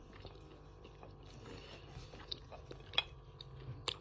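Yellow Bashkir Tamyan clay, dry and crumbly, is bitten and chewed close up, giving very quiet soft grinding with a couple of crisp little crunches near the end and no talking.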